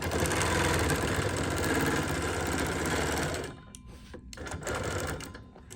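A home sewing machine hums steadily while over-sewing around the edge of a quilt, then cuts out abruptly a little past halfway, leaving a few quieter stop-start bursts and faint handling noise to close.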